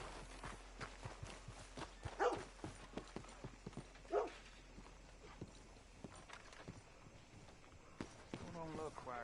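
Horse hooves clopping at a walk in Red Dead Redemption 2, a steady patter of soft thuds under game ambience with brief voice-like sounds and a few louder knocks mixed in.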